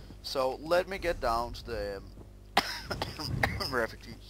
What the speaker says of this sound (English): I'm having a bad coughing today